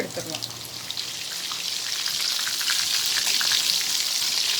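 Prawn balls deep-frying in hot oil give off a loud, dense hiss of bubbling that swells and then holds steady, with a brief spoken word near the start.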